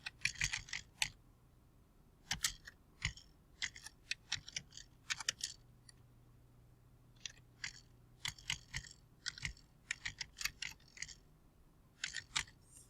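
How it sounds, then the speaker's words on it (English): Typing on a computer keyboard, quiet irregular clicky bursts of keystrokes with short pauses over a faint background hum. "And I'm going to type"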